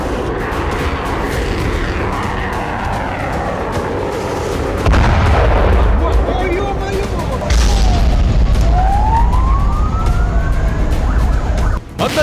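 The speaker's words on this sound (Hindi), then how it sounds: "पुतिन ब्रिगेड का छठा प्रहार, MLRS और होवित्जर तोपों से यूक्रेनी अड्डों पर हमला।" MLRS rockets and howitzers firing on Ukrainian positions in the Russia-Ukraine war: heavy booms land near five and seven and a half seconds, with a rising whine and a sustained roar continuing behind them.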